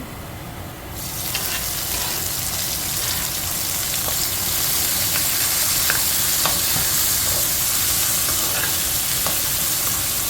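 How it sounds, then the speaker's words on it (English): Carrots, garlic and dried chili sauté in a pan for spicy pasta, setting off a strong, steady sizzle within the first second, with faint stirring clicks throughout. "Then let the carrots, garlic, and dried chili saute before adding the corn."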